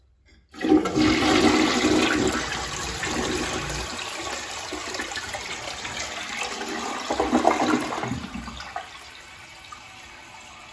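A crusty old toilet in an abandoned duplex rental under rehab flushes with a loud, close rush of water that holds steady for several seconds, then tapers off into a quieter trickle as it drains.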